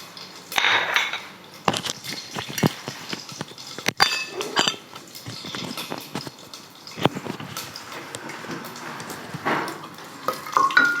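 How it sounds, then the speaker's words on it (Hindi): Whole spices dropped into hot oil for a Bombay mutton biryani, giving a steady close crackle and sizzle with clinks of a utensil against the pan throughout, no voices. "ये जो साबुत मसाले सब डाल देंगे हम इसमें"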